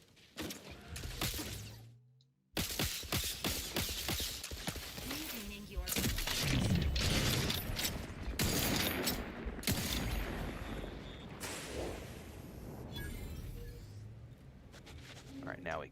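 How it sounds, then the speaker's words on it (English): Gunfire in The Outer Worlds 2, bursts of shots and impacts crackling through a dense, loud game mix with music and effects, voices talking over parts of it. "Something's shooting at you guys."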